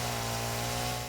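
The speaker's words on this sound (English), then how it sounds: "chainsaw's kind of loud, sorry." A chainsaw in the video game Satisfactory drones with a steady, loud motor hum for about a second, alone and without speech.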